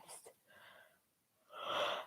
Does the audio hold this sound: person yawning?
yes